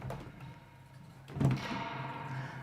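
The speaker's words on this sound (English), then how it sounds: "we can hear the real reverb tank by rattling" The spring reverb tank in an orange guitar amp is jolted, giving a quiet metallic crash and a boing, then a low ringing, twangy decay. It is faint and heard alone.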